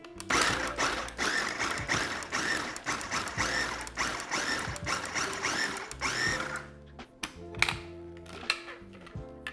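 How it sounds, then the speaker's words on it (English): An electric grinder whirs loudly while blending shrimp and chili peppers for a coconut curry, running steadily for several seconds before stopping and giving way to clinks and knocks. "I'm also gonna grind the shrimp in here"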